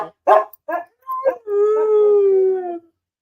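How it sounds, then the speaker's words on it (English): Several dogs at home break into loud, drawn-out howls after a few sharp barks, the long wavering howl rising near and close for about a second and a half. "my dogs are going crazy"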